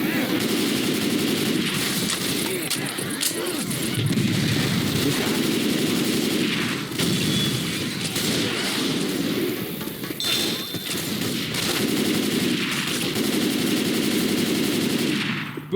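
Sustained rapid gunfire aimed at an armored zombie in Left 4 Dead 2, loud, dense bursts running almost without pause over a rumbling game soundscape.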